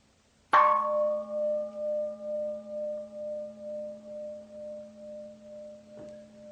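A meditation gong is struck once, giving a sharp attack that settles into a long, steady metallic tone with slow pulsing beats, fading gradually over several seconds, followed by a faint second tap near the end.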